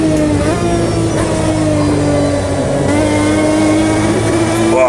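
A 2005 GT1 race car at Spa in Automobilista 2 drones loud and steady, its engine holding a sustained high note with a slight rise in pitch toward the end, continuous throughout with no voices.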